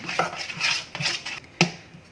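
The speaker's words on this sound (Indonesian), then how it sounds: "Ini diaduk rata seperti ini." A utensil scrapes and knocks around a pot while leftover rice porridge is mixed with wheat flour, giving rhythmic strokes with a sharper clink near the end, close and clear with no talking.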